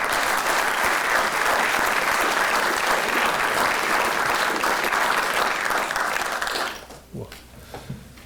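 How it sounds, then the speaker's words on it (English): Dense audience applause fills a hall at the 2021 US Army Adjutant General Corps Hall of Fame induction ceremony, steady and full for several seconds before tapering off into a few scattered final claps. "please join me in another round of applause for the entire class"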